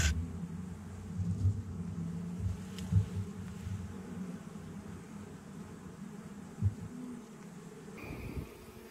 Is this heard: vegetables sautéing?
no